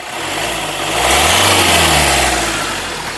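A 2017 Hyundai i20 Asta with a clean, leak-free engine is revved once, the loud, close engine note climbing to a peak and then easing back toward idle.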